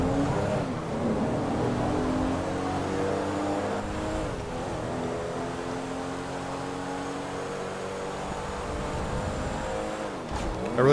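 A car engine hums and revs from inside the cabin in first-person view in GTA V on PC, a steady loud drone with rising and falling pitch as it accelerates and shifts.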